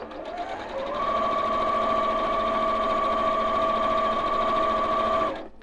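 A sewing machine hums in one steady, even run for several seconds, stitching the seams of a Carpenter Star quilt block, then stops; close and alone.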